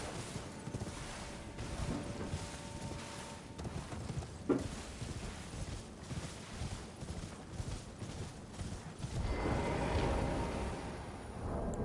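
Horse hooves clip-clopping while riding in Elden Ring, a steady rhythm of hoofbeats under a constant wind-like rush, with the wind noise getting louder near the end.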